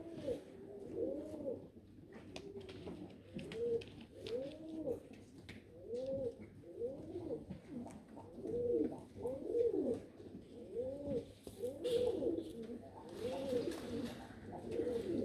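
British Jacobin pigeons cooing steadily at a show, a continuous run of overlapping rolling coos from several birds close by, with no talk.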